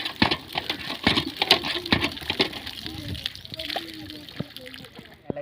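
Tap water splashes and patters steadily for several seconds, close and fairly loud, with people talking over it toward the end.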